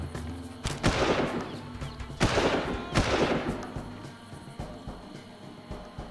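Gunfire from the Far Cry video game: several loud bursts of rapid shots in quick succession, with sharp reports and rumbling echoes trailing between them, no talking over the shots.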